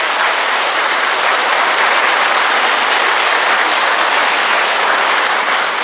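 A crowd claps together in a loud, sustained burst of applause that holds steady from start to finish.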